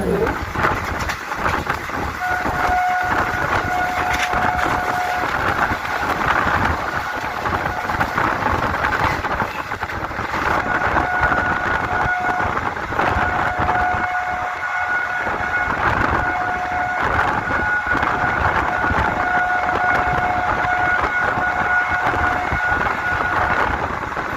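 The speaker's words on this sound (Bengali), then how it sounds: "আমাদের ট্রেন এসে দাঁড়াবো ব্যান্ডেল স্টেশনে" Steady rumble of a train running along the rails as it arrives at Bandel station, with a continuous roar and faint tonal squeals, no clear pauses, voices faintly audible beneath.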